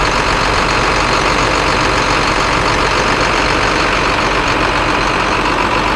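The DT466 turbo diesel engine of a 2005 IC CE300 school bus runs at a steady, loud, unbroken drone with a deep rumble and a broad whooshing hiss, heard close with no talk.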